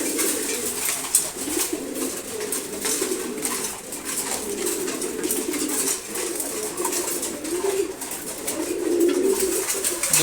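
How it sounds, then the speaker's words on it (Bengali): Pigeons coo steadily in a loft at feeding time, among chilla pigeons and racing pairs, with continuous low murmuring calls layered over one another and faint rustling and wing movement throughout. "দুর্দান্ত একটা নর কবুতর এটা।"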